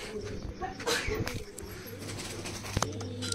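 Soft pigeon coos and a few faint rustles or flutters sound close by at a pigeon-keeping loft in Lucknow, with light background noise between the calls.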